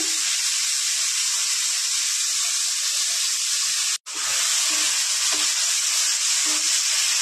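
Green peas, diced potato and garlic fry in a wok with a steady, bright sizzle. A brief dropout cuts the sound before the hiss resumes, with faint stirring clinks beneath.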